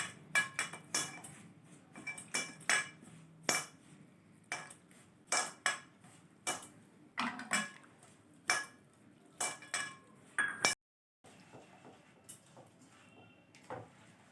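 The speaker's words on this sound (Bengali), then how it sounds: "এবার এই জলটা দিয়ে আমি মাখিয়ে নেবো" Rice flour dough being mixed with hot water in a bowl, heard as a steady series of sharp clinks and scrapes of a utensil against the bowl, close and rhythmic, with a brief pause near the end.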